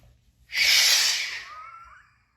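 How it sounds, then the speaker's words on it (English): A single deep, forceful breath during yoga nauli practice: a loud, airy rush that builds quickly, then trails away over about two seconds, heard close up. "Take a few breaths"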